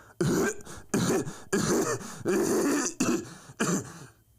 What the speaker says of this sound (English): They stopped the camera because her coughing fit